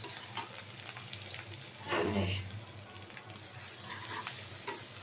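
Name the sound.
fish frying in a very hot wok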